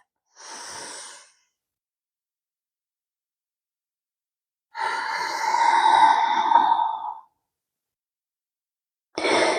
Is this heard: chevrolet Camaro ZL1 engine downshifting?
no